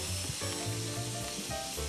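A flipped hamburger patty sizzles in a frying pan with a little olive oil, giving a steady close crackle and hiss with faint scraping, and no one speaks.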